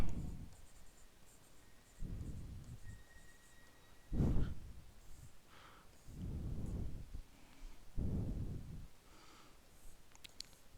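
Marker or chalk writing on a classroom board during a biology theory lesson, heard as several rhythmic scratchy bursts spaced a couple of seconds apart, fairly close and alone.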